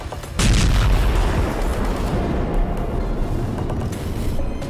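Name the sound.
explosion from Israeli air strike on Doha, Qatar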